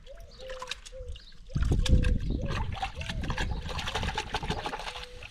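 Water runs over rooted grape cuttings as they are rinsed, a steady close splashing and trickling that starts abruptly and continues with some background noise.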